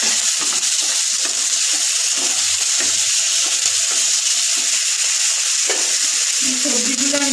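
Cumin and black pepper paste sizzles steadily in hot oil for a vegetable curry, with a constant frying hiss and occasional soft stirring scrapes, close and fairly loud throughout.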